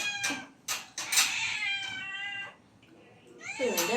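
A cat meows repeatedly up close, a few short cries followed by a long, drawn-out wail and one more meow.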